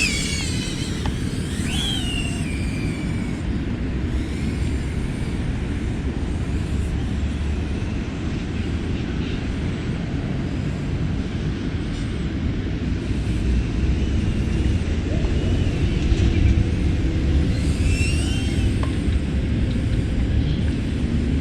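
An FPV drone in flight gives a continuous, fairly loud propeller buzz and whine, steady over twenty seconds and swelling slightly toward the end, with a few brief higher chirps and no speech.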